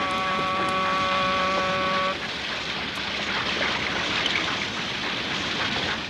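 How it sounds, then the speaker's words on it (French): A passing boat's engine drones steadily on the water, a broad rumbling wash with a tonal hum in the first couple of seconds that then fades into the churn. "Oh, on croise un autre bateau."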